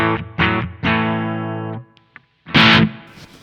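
A heavily overdriven electric guitar through a Fulltone OCD 1.7 pedal on its high peak setting plays a few loud, sustained chords with gaps between them, then a harsh, bright final strum, close and alone.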